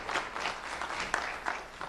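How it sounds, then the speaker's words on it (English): An audience claps for a student being honored at a sheriff's office Do The Right Thing award ceremony, a steady round of applause lasting throughout with a few sharper individual claps standing out. "Let's have a round of applause for Janelle Sanchez."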